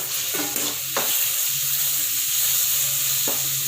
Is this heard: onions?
yes